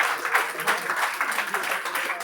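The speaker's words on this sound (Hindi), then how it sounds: "एक बार जोरदार तालियों से उनका स्वागत, अभिनंदन।" Applause from an audience welcoming Acharya Balkrishna at Press Club Haridwar, a steady wash of many hands clapping for about two seconds with a voice faintly underneath.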